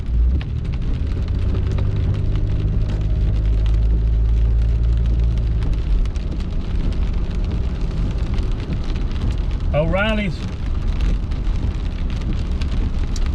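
Dense steady patter of rain drumming on a car roof under a low engine hum; a short sweeping tone and a brief spoken word cut in.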